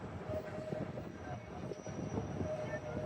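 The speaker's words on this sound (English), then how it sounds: "There goes a train for the elevated going around the circle there." An elevated train passes around a loop near Upper Darby on the SEPTA Norristown High Speed Line, heard as a steady, fairly distant rumble of rail cars with faint wheel noise and no talk over it.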